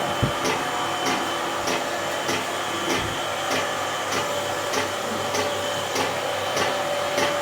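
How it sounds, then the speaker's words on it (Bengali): A high pressure pump on a mineral water filtration machine runs with a steady mechanical hum and hiss, with regular soft ticking pulses about twice a second, constant and moderately loud without talking. "আমি হাই প্রেশার পাম্পের সুইচ দিয়ে দিলাম আমার পুরো মেশিন চালু হয়ে গেল"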